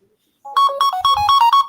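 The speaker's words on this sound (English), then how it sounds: "who phone is that or computer?" Phone ringtone playing a bright, loud electronic melody of quick repeating notes that starts abruptly and carries on steadily through the clip.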